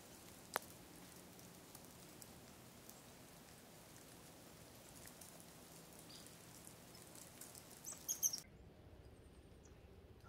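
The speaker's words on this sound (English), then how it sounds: "It's started freezing rain again." Freezing rain falls outdoors during an ice storm, a faint, fine steady patter of drops with a few small ticks and clicks, ending abruptly.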